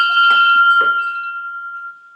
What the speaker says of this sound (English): It's the final bell.